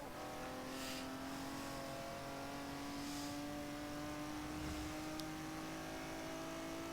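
A Ferrari Barchetta race car in a racing video game holds a steady, high engine note that slowly climbs in pitch, loud and continuous throughout, with no talk over it.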